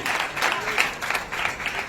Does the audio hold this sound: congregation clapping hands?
yes